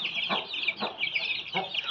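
A Bhimavaram breed rooster gives three short, clear clucks at an even pace, close by, over a faint high-pitched background of chirping chicks.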